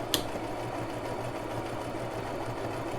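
A Brother LX3817 sewing machine runs a steady straight stitch with backstitching, its motor hum and needle clatter continuous and close after a brief sharp click at the start.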